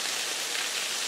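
Hot water poured from a pot into a freezer bag of dry powdered food on a hike, a steady close, full rushing splash with no break, no voices.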